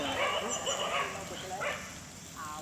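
Dogs near a riverside temple in Bannur give short yips and whimpering barks, not loud, under people talking nearby.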